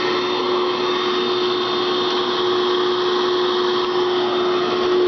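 A vacuum cleaner runs close by with a loud, steady motor whine and a constant high tone, unbroken for the whole stretch.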